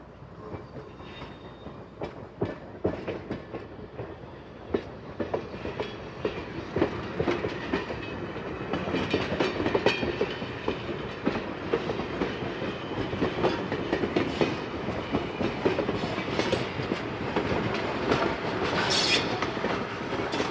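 A diesel train engine rumbles along the track with rhythmic clickety-clack of wheels, metallic squeals and a steady engine drone, building slightly louder as it moves.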